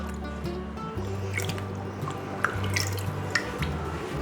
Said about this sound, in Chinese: 用指腹轻轻的搓洗就可以了。